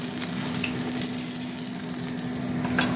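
Fish frying hard in hot oil in a pan, a steady dense sizzle with crackling and spitting throughout, close and fairly loud, with no voices.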